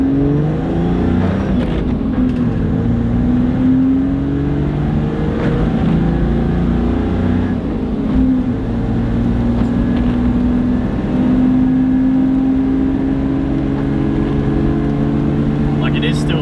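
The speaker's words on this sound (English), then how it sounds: "Like it is still loud because the exhaust is loud." A Toyota Land Cruiser Troopy drives along with a loud droning exhaust and engine note heard from inside the cabin, pitch rising and falling with acceleration, while people talk over it.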